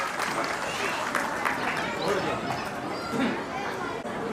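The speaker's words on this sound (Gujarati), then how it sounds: "આપણે જોરદાર તાળીઓ વગાડીશું" Audience applause at a cultural programme, a steady broad wash of clapping that holds at an even level throughout, with some crowd chatter mixed in.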